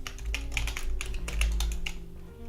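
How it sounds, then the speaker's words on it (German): A computer keyboard is typed on during a live stream, giving a continuous run of quick, uneven clicks close to the mic over a low steady hum, with no talking. "hört man die Tastatur laut?"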